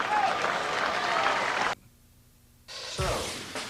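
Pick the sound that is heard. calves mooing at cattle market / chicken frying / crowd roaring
crowd roaring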